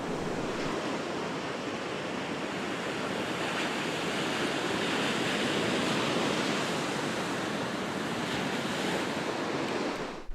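Pacific Ocean surf breaking on the beach at Oxnard, a steady, loud wash of waves rolling in continuously, with some wind noise on the microphone.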